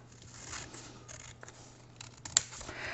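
Scissors cutting paper sticky tabs in half, faint soft snips and rustling, then one sharper close cut near the end.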